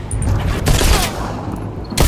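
Gunfire in a VR shooting game while hitting pop-up targets: a dense, loud burst of shots filling the short span, with a final blast at the end.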